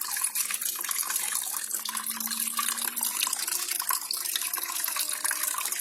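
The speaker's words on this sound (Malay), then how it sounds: "Motor ini pula menyedot air masuk ke dalam bekas berisi benih tauge dan kemudian masuk semula ke dalam akuarium." Water runs steadily from a small solar-powered motor pump in a school aquaponics setup, pouring and splashing continuously into a tank of bean sprout seeds on its way back to an aquarium, near and constant with no voices.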